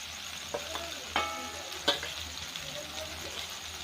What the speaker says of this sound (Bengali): মশলাগুলো একটু নাড়াচাড়া করে দিতে হবে